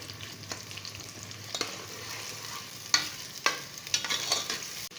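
Finely chopped onions fry in oil over a medium flame, giving a steady soft sizzle broken by scrapes and clinks of a spatula stirring in the pan, growing busier toward the end, without any speech.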